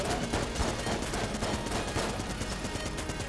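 Continuous rapid gunfire in the bullet-hell video game Enter the Gungeon, a dense, even rattle of shots that keeps up steadily from start to finish.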